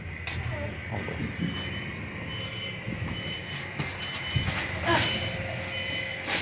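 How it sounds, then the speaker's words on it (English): A city bus pulls up at a street stop with rumbling engine noise and repeated warning beeps, heard close in busy outdoor traffic, with scattered voices nearby. "oh, my bus is coming."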